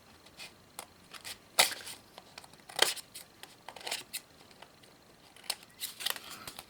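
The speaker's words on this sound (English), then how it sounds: "we're just going to take our scissors and cut along those sides" Scissors snipping along the sides of card stock for a base card, with a series of close, crisp cutting and rustling sounds spaced irregularly, some louder snips, no voice heard.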